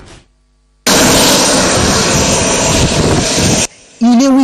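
An airplane lands at Kolwezi airport, its engine roar loud and steady for about three seconds after a brief lull, then cutting off abruptly into a short quiet gap before tonal sounds follow.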